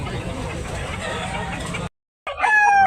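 A white-leg bull stag rooster at a poultry market in Tabunok, Talisay, Cebu crows near and loud after a stretch of busy market noise and a brief gap, with a voice talking.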